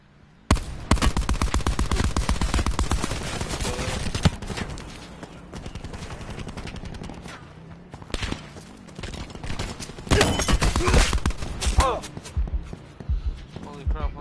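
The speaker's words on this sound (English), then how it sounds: "I'm getting shot" Dense bursts of video game gunfire crackle through a Black Out battle royale match, with rapid volleys loud and close, fading mid-clip, then returning in heavy bursts around the player while someone talks over the action.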